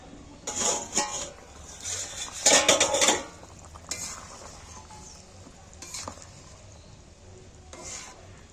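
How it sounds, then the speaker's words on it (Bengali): Fried prawns are spooned into a simmering curry gravy in a pan, with several short bursts of metal scraping and clinking between quieter stretches of a soft bubbling simmer. No one speaks. "আমি এই ঝোলটার মধ্যে দুটো চিংড়ি মাছ ভাজা তুলে দিচ্ছি"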